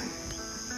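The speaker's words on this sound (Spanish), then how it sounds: "Ya no había pajaritos, se escuchaban los grillos." A steady, high chirping of crickets at night fills the brief stretch, faint and continuous with no voices.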